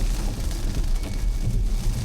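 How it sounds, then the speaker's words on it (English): Rain on a Porsche Macan EV driving on a highway in a summer rainstorm, a dense, steady wash of drops and road rumble heard from inside the car, loud and continuous without speech. "we are heading into a little bit of a rainstorm here"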